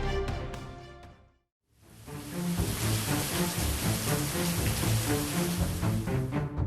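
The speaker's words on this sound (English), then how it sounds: "The rain poured down so heavily that everything ahead almost vanished behind an endless sheet of white water." Heavy rain pours down in a dense, steady roar after a brief moment of silence, loud and continuous with a faint rumble beneath.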